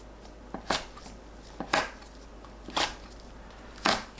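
A knife chops onion and Cheongyang and red chili peppers on a cutting board, four distinct, evenly spaced sharp thuds, close and clear with no talking.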